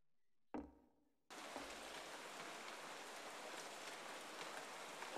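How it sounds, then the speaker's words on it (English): Sudden steady rain in a horror game mod set in a mansion, starting abruptly after a brief thump and continuing as an even, loud hiss with no speech. "Suddenly rain."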